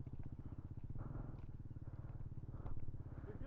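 A Kawasaki Z125 Pro motorcycle engine putters at low throttle with a steady, even low pulsing, faint and close, as a learner rider eases off the clutch.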